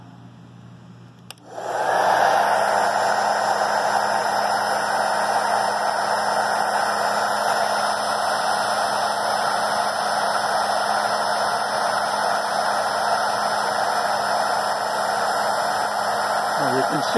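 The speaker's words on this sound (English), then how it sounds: "Now I'm going to turn on the hair dryer" A hair dryer switches on with a click and then blows a steady, loud whoosh of air with a constant motor hum, running continuously during a Bernoulli demonstration with a ball and water column.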